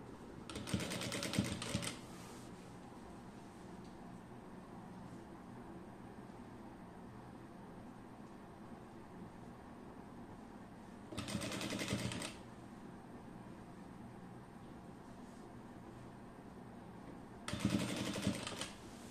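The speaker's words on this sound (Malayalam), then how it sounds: "ഈ രീതിയിലായിട്ട് ഞൊറി ഇട്ടിട്ട് സ്റ്റിച്ച് ചെയ്ത് എടുക്കണം." A sewing machine stitching pleats on a six-piece skirt, running in three short bursts of rapid, rattling stitching separated by long quiet pauses with faint background hiss.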